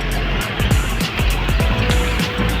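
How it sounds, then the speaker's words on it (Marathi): A vehicle arrives in a crowded Ganpati idol-welcoming procession, its steady engine rumble and road noise continuous and fairly loud throughout, with no clear talk over it. "गाडी आली गाडी आली"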